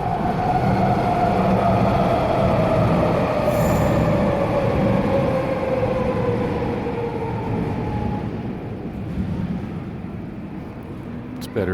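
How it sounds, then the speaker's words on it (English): A train rolls past close by with a loud, continuous rumble of wheels on track. A high wheel squeal slowly glides downward, then the noise eases off toward the end. "Here comes the train."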